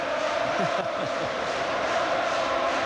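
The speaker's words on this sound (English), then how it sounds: "there's plenty of vibrating around Celtic Park as the crowd make themselves heard" Football crowd at Celtic Park stadium during a Rangers v Celtic Scottish Cup semi-final, a steady distant roar of many voices filling the ground, continuous and fairly faint.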